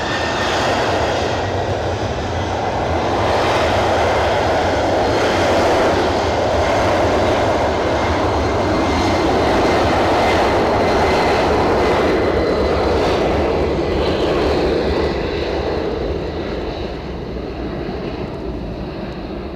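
A Delta airliner at Edinburgh Airport produces a loud, sustained jet engine roar, a broad rumbling wash that swells and holds steady before easing slightly at the end.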